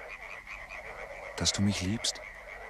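Frogs croak in a short staccato run near the end, used as an effect in a radio play, under a steady background hum and after a spoken line.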